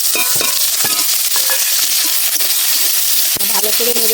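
Onion, tomato and green chillies stirred and frying in oil with bay leaf and a dried red chilli, loud close sizzling with repeated spatula scrapes and clinks against the pan.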